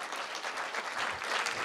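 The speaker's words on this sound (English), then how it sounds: "give a huge round of applause for this wonderful" Dense applause from an audience at an Engineers Day workshop session, a continuous burst of many hands clapping, fairly close and steady.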